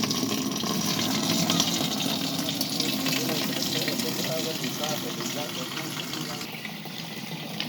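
Water flowing steadily from a hand pump fountain fed by a 3000-litre tank, a continuous close rushing splash throughout with faint background voices.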